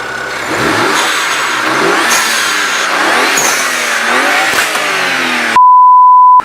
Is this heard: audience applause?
no